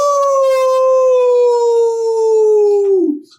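A single long, loud howl imitating a wolf howling at the moon, a voice mimicking the animal, holding one smooth falling pitch for about three seconds before trailing off.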